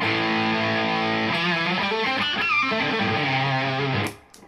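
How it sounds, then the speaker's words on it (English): A heavily distorted electric guitar rings out with thick, sustained chords that shift a few times, then the sound cuts off abruptly. "and then I can kick in the distortion"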